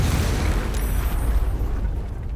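In Baldur's Gate 3, a cocktail of smoke powder and oil barrels detonates into a loud, rumbling explosion, a dense, sustained roaring blast that fills the whole moment before slowly thinning out.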